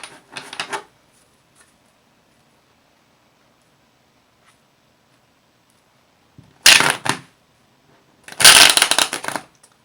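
Tarot cards are shuffled in three separate bursts of riffling and rustling, a short one at the start and two longer, louder ones later, with near silence in between.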